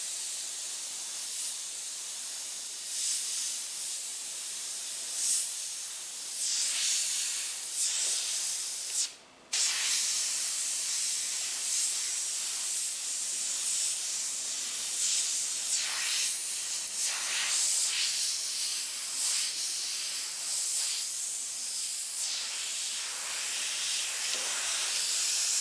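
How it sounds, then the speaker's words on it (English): A paint airbrush hisses in a steady, bright spray that runs almost unbroken, with one brief pause before resuming and small shifts in intensity as it moves across the piece. "I'm going to go ahead and try airbrushing sideways"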